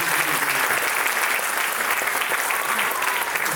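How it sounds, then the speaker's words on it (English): A large audience at a Thirukkural musical stage show breaks into loud, sustained applause, a dense, even clatter of many hands that holds steady throughout. "Another round of applause to them."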